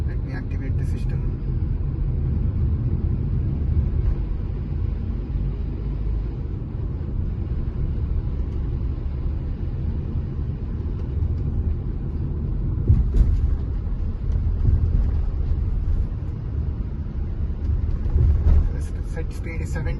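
A car travels along a highway in India, its steady road and engine rumble continuous throughout, with a few louder bumps late on and someone talking over the drive.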